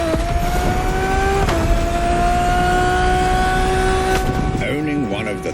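A Ferrari Enzo in The Crew Motorfest revs loud and close, its engine note climbing steadily in pitch, dropping sharply at each gear change, then easing off near the end.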